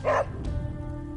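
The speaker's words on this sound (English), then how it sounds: "Hey, Charlie Warley Puppy Face" A puppy gives one short, sharp yip-like bark up close at the start, followed by a low rumbling background.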